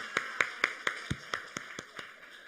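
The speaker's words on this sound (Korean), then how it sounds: "박수 한번 드리겠습니다" A church congregation at a Wednesday service gives a short round of applause, heard as about ten evenly spaced, distinct claps or taps that fade steadily, moderately close with no talking.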